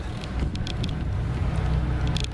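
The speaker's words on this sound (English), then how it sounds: "Believe it or not, the generator is running right now." A 60-foot Sunseeker Renegade boat's generator drones low and steadily nearby, with a little wind noise and faint clicks on top.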